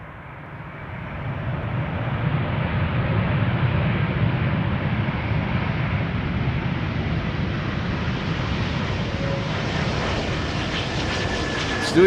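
A Suriname Airways Airbus A340 lands using idle reverse thrust, its engines producing a steady, loud, broadband roar that builds at touchdown and holds throughout the rollout.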